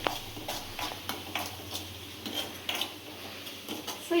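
Turmeric tempering frying in a pan for Rayalaseema uggani, with stirring and light clinks of a utensil against the metal over a steady soft sizzle, close and moderately quiet.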